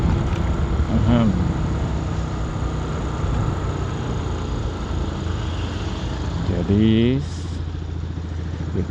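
A motorcycle rides along a beachside road, its engine a steady mid-range drone with wind and road noise throughout, while someone talks briefly over it.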